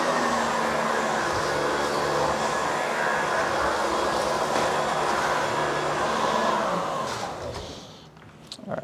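An Oreck Magnesium LW1500RS upright vacuum cleaner runs on slow speed over a hard floor, a loud steady motor whine and airflow roar that winds down toward the end, with a few clicks as it stops.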